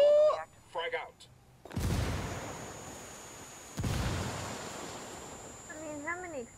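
Two loud explosions burst about two seconds apart in a first-person shooter video game, each dropping off into a rumbling tail, with brief voices from the game before and after.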